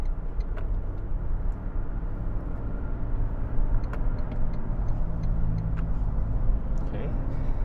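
A 2022 Toyota Land Cruiser 300 ZX driven in Sport S mode gives a steady low engine and road rumble heard from inside the cabin, with faint ticking over the continuous drone.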